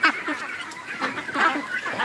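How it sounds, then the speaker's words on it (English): A flock of hungry ducks and geese honk and quack together on a homestead, overlapping calls forming a busy, steady chorus close by. "And a lot of hungry ducks."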